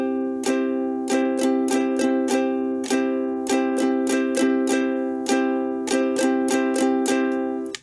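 A beginner's ukulele strumming rhythm: crisp chord strokes in a repeating syncopated down-up pattern, close and clear, played alone without any voice.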